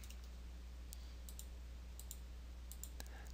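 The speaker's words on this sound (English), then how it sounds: "And click the Locate button." A few quick, faint mouse clicks in software, scattered sharp ticks over a low steady hum.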